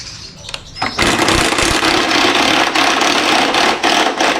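Makita DTW190Z 18V cordless brushless impact wrench driving a nut in and out, a loud continuous hammering whir starting after a short pause and running steadily close by.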